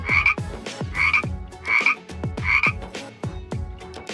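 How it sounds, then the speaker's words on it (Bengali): Frogs croak in the rainy season, sounding as four evenly spaced bursts of raspy, throaty calls, each about half a second long, over quieter intermittent croaks and with no voices present. "ব্যাঙ ডাকে বর্ষাকালে।"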